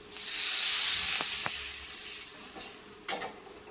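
Water poured into a hot pan of tempered cumin and turmeric for upma bursts into a loud hiss that gradually fades to a softer steamy simmer, with a few light utensil taps near the end.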